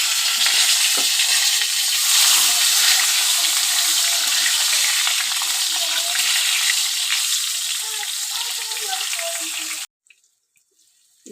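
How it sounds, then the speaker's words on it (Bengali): Eggplant frying in hot oil for a Bengali rohu fish and eggplant curry, a loud, steady close sizzle that runs for about ten seconds and then stops abruptly. "বেগুনটা আমি ভেজে নেব"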